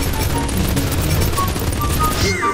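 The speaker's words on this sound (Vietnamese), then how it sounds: "Súng, nói chung là súng ở đây rất là yếu." Rapid, dense gunfire from guns in a Minecraft-style mining battle mini-game, sustained and loud across the whole moment with bursts that blur into a continuous fusillade.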